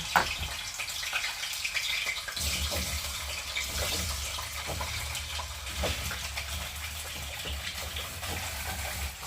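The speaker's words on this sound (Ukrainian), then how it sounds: "Як тільки розігрілася олійка, я бризнула трішечки води розігрілась і відразу викладаємо картоплю" A loud, steady hiss of potatoes frying in hot sunflower oil, rushing and crackling continuously at close range without any voices.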